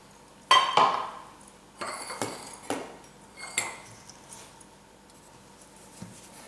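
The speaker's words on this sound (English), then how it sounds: "In a big bowl. And you're going to mix that up." Ingredients are stirred in a big bowl with a utensil, giving a series of sharp clinks and scrapes against the bowl that come in irregular bursts and fade toward the end.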